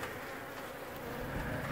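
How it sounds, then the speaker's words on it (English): Honeybees buzzing close by during a removal from an abandoned house, a dense continuous hum with no voices. "I'm actually going to vacuum these last few bees out of here"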